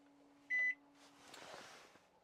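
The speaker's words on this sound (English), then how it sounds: "in the kitchen area, you have a mains operated microwave" A mains-operated microwave oven in a motorhome kitchen gives one short, clear electronic beep from a button press, followed by a soft hum and faint rustling, with no talking.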